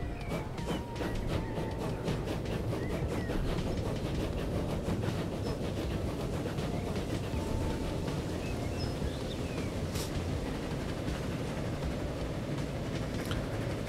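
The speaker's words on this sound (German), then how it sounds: "Der Zug wird wahrscheinlich streckenweise langsam sein, weil wir starke Steigungen haben." A passenger train running on track in the video game Transport Fever 2, a continuous dense rumble with faint rhythmic rail clatter holding steady throughout, no voices.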